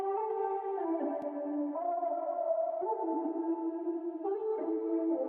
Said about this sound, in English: I grabbed this vocal loop from, I believe it was a CJ Vegas pack